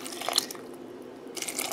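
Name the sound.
adding water to rose petals in pot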